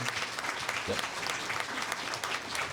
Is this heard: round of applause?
yes